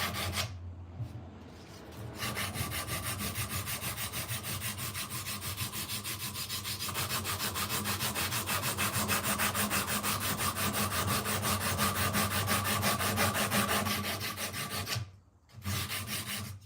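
Continuous close abrasive rasping of a workpiece sanded on a belt grinder used as a slack belt, a steady grinding rush lasting most of the time with a brief pause near the end.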